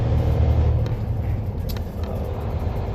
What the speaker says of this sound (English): As you can clearly see, I'm driving.